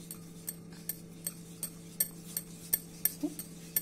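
A spoon scraping and clinking against a bowl while mulethi powder is stirred with rose water, a steady rhythm of light close ticks about twice a second, no talking.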